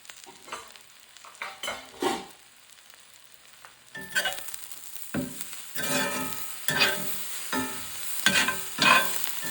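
Red spinach (cheera) thoran is stirred in a pan, giving bursts of scraping and shuffling against the metal over a soft sizzle. The strokes come in an irregular rhythm, close and fairly loud.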